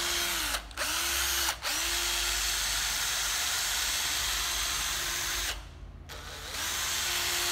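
A Japanese cordless drill runs with a steady, loud whine, briefly stopping and restarting twice early on, then cutting out and spinning back up near the end.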